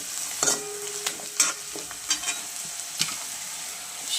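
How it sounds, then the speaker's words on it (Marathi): Vermicelli roasts in oil for upma, giving a quiet crackling sizzle broken by repeated close, sharp scrapes and taps of a spoon against the pan. "घालायची व्यवस्थित तेलात भाजून"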